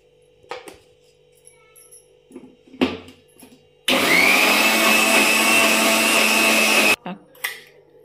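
Mixer grinder whirring through chopped mango pieces with salt, spice and turmeric, a loud steady three-second burst of grinding between quieter clinks and handling sounds at close range.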